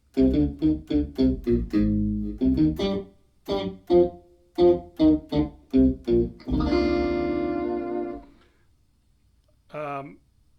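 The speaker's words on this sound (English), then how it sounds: "the synthesizer doubling what I play on the guitar" Tight, punchy electric guitar phrases doubled by a synth bass, a Parker Fly guitar driving a GR-55 guitar synth, playing short funk rhythmic stabs, then a sustained chord, a pause, and one last brief note.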